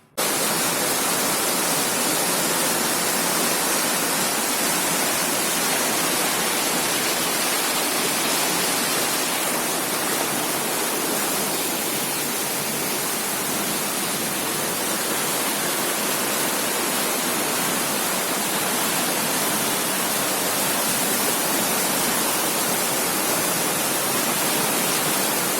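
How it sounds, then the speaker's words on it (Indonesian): Strong river current rushing through an irrigation control weir on the Batang Pampan near Jembatan Benteng, a constant loud wash of dense white-noise water roar that continues unbroken with no voices. "Terlihat arus deras di Batang Pampan menuju Muaro."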